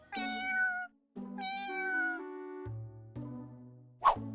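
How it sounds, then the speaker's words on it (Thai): A wet, shivering kitten meows several times in a row, long high-pitched cries close by, each drawn out and wavering, followed by a short sharp squeak. "หนูจิ๋วมองตามหาเสียงร้อง เหมียวเหมียว จนพบเจ้าลูกแมวน้อย"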